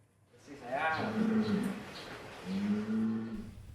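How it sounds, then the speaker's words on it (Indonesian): A Simmental cow weighing over a ton, kept as sacrificial cattle for Eid al-Adha, gives two drawn-out low moos close by, separated by a short pause, with faint background noise. "Sapi tersebut berjenis simental dengan bobot 1 ton 80 kg."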